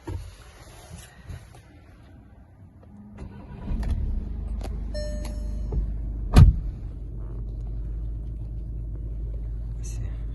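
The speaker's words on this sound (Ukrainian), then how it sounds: "Заведемо машинку." A Skoda Octavia TDI diesel engine cranks and starts, then settles into a steady low idle rumble, with a sharp click and brief whirs of car electronics around the start.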